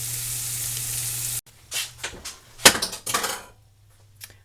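Burger patties browning in a pan for Salisbury steak sizzle loudly and evenly over a low hum, then the sizzle cuts out and is followed by several sharp clatters and scrapes of a utensil against the pan.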